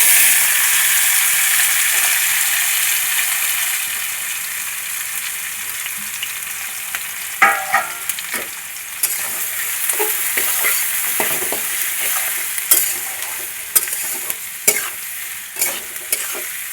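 Chopped onions fry in oil in a pan for a hill-style chicken dish; a loud sizzle fades to a steady hiss, then quick clattering spatula stirs and scrapes come in bursts, with no talking.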